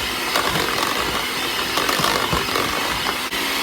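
An electric mixer beating vanilla extract and ground cinnamon into cupcake batter, a loud, continuous whirring buzz held close for the whole stretch with no pauses and no speech.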